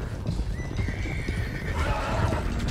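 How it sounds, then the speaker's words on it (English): Horses in the Red Dead Redemption 2 video game, a loose stallion whinnying loudly over clip-clopping hooves and the rumble of a herd being driven, close and continuous. "One of the stallions is loose."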